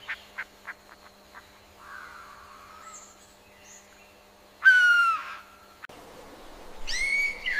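A lyrebird in the forest mimicking other birds' calls: a few soft clicks and a low warbling note, then a loud, sweeping cascading call, a pause, and a second bright descending phrase, clear with no talking.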